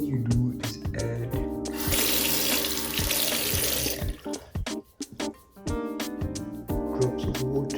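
Tap water runs steadily for about two seconds to dampen a wet shaving brush, a rushing splash heard over background music with brief quieter gaps afterward.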